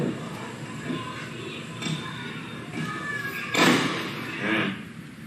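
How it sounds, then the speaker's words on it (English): A single gunshot from a recording played back during a courtroom trial, a sharp muffled burst about two-thirds through over a steady room hum. "the gunshot you just heard"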